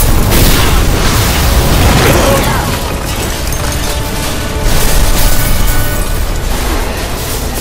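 A gas explosion in a Resident Evil 6 cutscene bursts out as a loud, sustained roar of broadband rumble and crackle, filling the whole stretch with dense, heavy noise.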